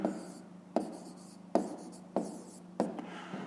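Pen writing out a fifth-grade maths exercise answer on paper, heard as about five short bursts of scratchy strokes separated by brief pauses, close and alone with no talk.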